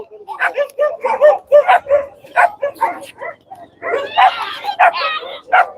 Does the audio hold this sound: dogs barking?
yes